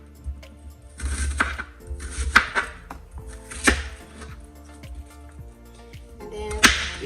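A knife chops through an onion on a cutting board in several crisp, irregular strokes, each a sharp thud and crunch separated by pauses, close and clear.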